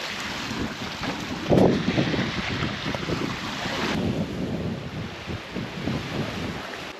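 Steady wind on a lake in Wells Gray, buffeting the microphone with a low rumble, gusting stronger at moments, alongside a broad rushing background like water nearby.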